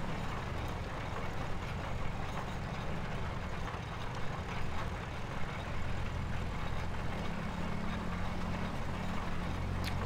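A tractor working a field in Farming Simulator 2017, its steady low engine drone running continuously and evenly throughout, with no talking.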